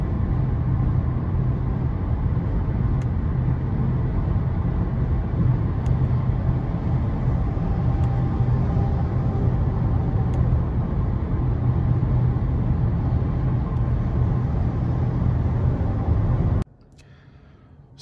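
Inside a 2021 Škoda Octavia RS on the road, a constant low rumble of tyre and road noise fills the cabin, then drops off abruptly just before the end.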